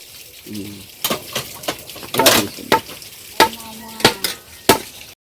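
Meat cooking in a pan, a low sizzle beneath a series of sharp clatters and scrapes of stirring, with a voice speaking briefly near the start.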